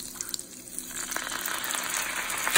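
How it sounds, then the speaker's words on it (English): Orange juice poured into a rosemary fig butter sauce for lamb chops: a soft, close liquid trickle that swells into a steady sizzling pour. "we're going to add 1 tablespoon of orange juice"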